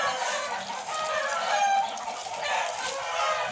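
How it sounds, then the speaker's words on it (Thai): Chickens cluck and crow outdoors in a Thai garden where pandan is being planted, a continuous busy fowl chorus with rhythmic bursts over a dense, hissy background, no talking. "มีเสียงไก่ด้วยนะครับ"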